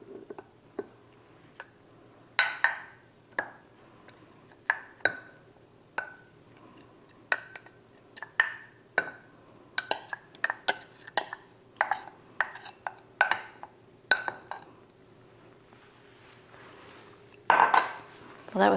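Garlic spooned into a row of canning jars for pressure-canned Korean beef, heard as a long series of light clinks and taps of metal on glass, close and irregular, with brief pauses between jars.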